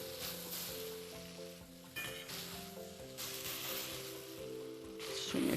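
Potatoes sizzle and fry with softened leek in a pan for a potato, leek and bacon soup, a steady close crackle with stirring sounds and a faint background tone.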